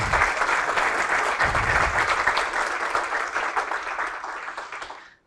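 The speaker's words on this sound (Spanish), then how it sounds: "un aplauso nuevamente para Marcelo" An audience at a reflection gathering on person, sexuality and identity gives Marcelo a dense, sustained round of applause, loud and even before fading out at the end.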